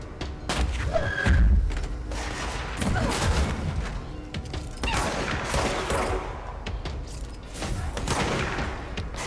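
Gunfire from the video game Control, with a rapid series of loud, close shots and heavy thuds bursting out over a dense, noisy game soundtrack for the whole stretch.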